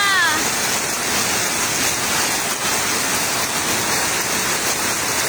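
Heavy rain pours down during a flood, a dense, loud, continuous hiss and roar that holds steady throughout, with no breaks and a voice faintly present underneath.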